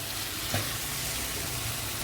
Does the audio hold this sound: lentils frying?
yes